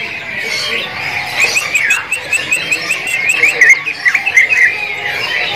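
A green leafbird from East Java sings at a bird-market kiosk, a run of quick, bright chirps and whistled notes under someone talking nearby.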